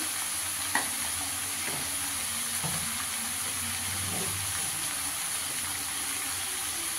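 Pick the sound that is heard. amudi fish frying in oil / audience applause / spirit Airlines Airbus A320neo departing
amudi fish frying in oil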